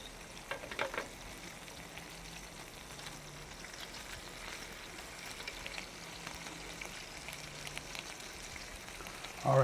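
Food sizzles and fries in a pan on a gas stove, a soft continuous crackle with scattered pops and a brief louder clatter at the very end, heard alone at low volume.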